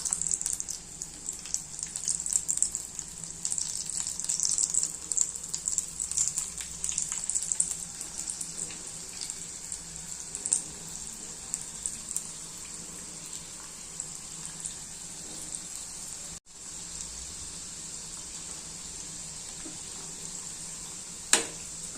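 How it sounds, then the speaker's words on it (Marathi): Wheat flour kachori sizzle in hot oil over medium heat, a dense, continuous hiss with faint bubbling and occasional crackles, close and unbroken apart from one brief cut. "आता आपण तेलामध्ये सोडूया। छान असा ब्राऊन कलर येतपर्यंत तळून घेऊया।"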